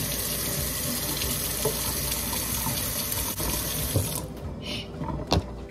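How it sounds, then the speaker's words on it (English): A kitchen sink faucet runs strongly, and grease from browned ground beef is poured down the drain with a continuous close hiss of water. Brief clunks sound near the end. "I'm going to drain out all of this grease"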